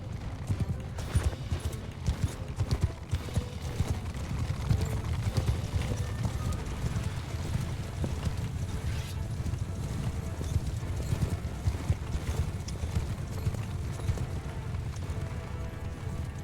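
Many horse hooves clip-clop in a dense, continuous gallop at steady loudness throughout a cavalry charge in the video game Mount & Blade II: Bannerlord, with a faint whinny and no speech.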